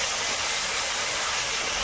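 Bay leaf, ginger-garlic paste, whole garlic cloves and green chillies frying in hot oil, a loud, close, continuous hiss of sizzling with no talk over it.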